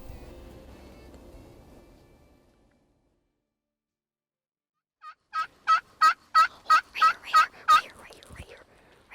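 A wild turkey in Nebraska gobbles in a rapid, loud run of about nine sharp, rhythmic notes, following a low rumble that fades into silence.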